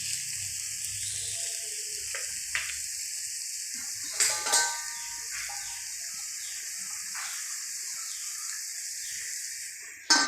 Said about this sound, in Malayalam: നന്നായിട്ട് വാടുന്നവരെ ഇളക്കി കൊടുക്കാം